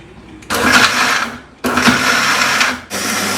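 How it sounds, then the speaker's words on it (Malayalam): A kitchen mixer grinder whirs loudly while grinding the curry base for butter chicken, running in two separate pulses with a short pause between them, then starting up again for a third run. "മിക്സിക്കകത്തിട്ട് അടിക്കുക."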